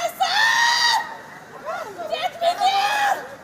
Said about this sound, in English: The hysterical screams of an inconsolable mother just getting word that her son was the victim